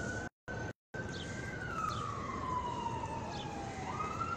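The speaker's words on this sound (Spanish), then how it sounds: "Allá podemos ver que precisamente están pasando unas patrullas." Police patrol cars pass along a street in Mexico City's Zócalo, their siren wailing in long, slow rising and falling sweeps at a moderate distance over steady crowd and traffic noise, after two brief dropouts at the start.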